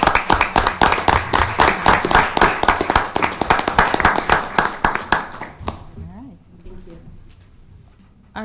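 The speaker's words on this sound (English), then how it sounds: "Give them a round of applause." City council meeting audience in Lincoln gives a short burst of close, distinct, rhythmic clapping that fades out after about five seconds, followed by a quieter room with faint voices.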